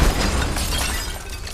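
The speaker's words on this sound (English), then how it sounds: "Or just run right through the broken glass." Glass shattering in the video game Marvel's Avengers, a sustained bright crashing burst that fills the whole moment at close range, loud and continuous with no voices over it.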